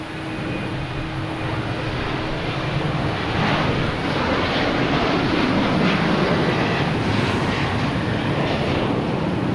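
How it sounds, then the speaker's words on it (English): American Airlines Boeing 737-800 jet engines at Boston Logan Airport, a loud, continuous broadband roar that holds steady and swells slightly as the aircraft passes nearby. "I have an American Airlines heading to Dallas Fort Worth. 737-800."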